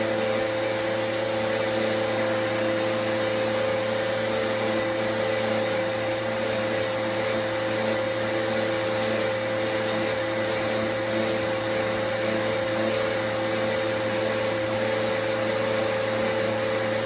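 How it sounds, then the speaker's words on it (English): A vacuum cleaner cleans the Ultra HEPA filter of an Air Doctor air purifier, making a loud, steady, close-up whine that drones without a break and has no talking over it. "vacuum off the Ultra HEPA filter as well"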